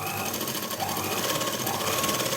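A sewing machine runs steadily, stitching a salwar pant with a continuous, even mechanical whir and no breaks.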